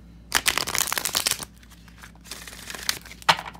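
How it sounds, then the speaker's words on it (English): A tarot and oracle deck being shuffled by hand in quick bursts of papery riffling and crinkling, close and fairly soft, with a short pause between rounds. "Three shuffles."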